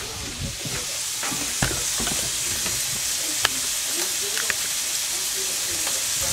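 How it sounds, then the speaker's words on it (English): Spiced sausage and tomatoes frying in a pan, a steady close sizzle with occasional clicks and scrapes of stirring, moderately loud, with a few brief voice sounds. "now you can see that our sausage is getting nice and browned up"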